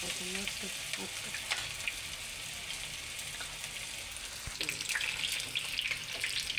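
Cauliflower pakoras frying in a pan of hot oil, a steady bright sizzle running throughout at close range, with a few light clicks and clatters of handling; faint voices murmur in the background.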